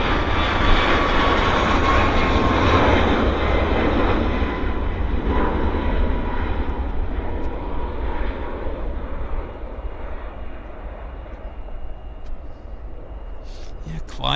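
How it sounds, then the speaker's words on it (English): Air Canada Boeing 787 Dreamliner jet climbing out after takeoff from Vancouver Airport, a loud, steady broadband engine roar that slowly fades as it pulls away, with voices talking over it. "Okay, Air Canada Dreamliner,"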